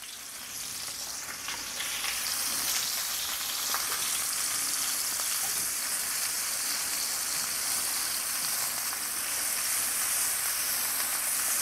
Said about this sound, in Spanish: Vamos a ponerla a sofreír.